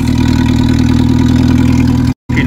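An old abandoned Land Rover engine with its exhaust deleted runs loud and close, a rough, steady idle with a brief dropout near the end before the rumble resumes.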